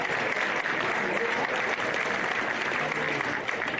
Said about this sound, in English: Round of applause for our referees